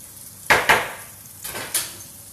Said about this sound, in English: this halloumi is frying really nicely